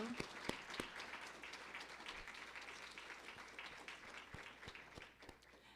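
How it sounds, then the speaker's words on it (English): Applause from an audience at a fellows' literary reading, a light, fairly sparse patter of hands with a few sharp individual claps, steady and moderate before thinning out toward the end. "Please join me in giving our readers a huge round of applause."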